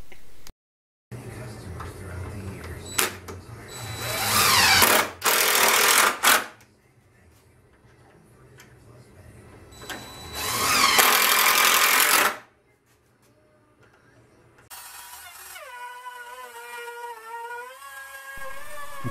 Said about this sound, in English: I hit the bed rails with a 1/4 inch roundover bit, all four sides